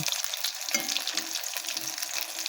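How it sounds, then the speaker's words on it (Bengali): Stuffed flour pithas fry in a pan of oil with a steady, bright hiss and small bubbling pops, close and unbroken throughout. "সবগুলো আমি উল্টে দিচ্ছি সেটা পিঠগুলো লাল লাল করে ভেজে নেব"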